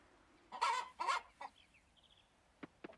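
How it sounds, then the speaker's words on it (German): Chickens cluck in a barn coop in the farming game Coral Island, two loud close bursts followed by softer scattered clucks and a few short sharp calls, with no talking. "Als erstes wieder rein zu unseren Hühnern."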